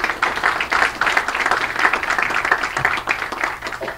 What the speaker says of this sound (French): Léo Denis Carpentier et Lucie Cablan, qu'on peut applaudir également.